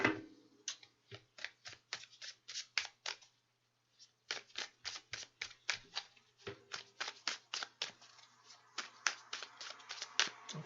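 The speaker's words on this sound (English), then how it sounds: "it feels I need to give these another good shuffle" Tarot cards shuffled by hand in a run of quick, crisp riffling bursts, close and clear, with a brief pause near the middle before the shuffling resumes.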